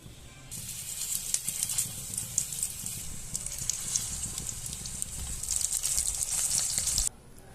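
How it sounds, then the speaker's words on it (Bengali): Fish oil fritters fry pakora-style in hot oil, making a close, crackling sizzle with bursts of bubbling pops that run steadily for about seven seconds and then cut off abruptly. "এটা আমি পকোড়া স্টাইলে ভেজে নেব"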